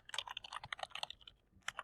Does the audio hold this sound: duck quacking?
no